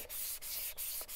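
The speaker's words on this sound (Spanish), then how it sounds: "Para lijar toda la superficie plana." Wet sandpaper rubbed across a flat surface in short back-and-forth strokes, a close, gritty rasp broken by about three brief pauses where the stroke changes direction.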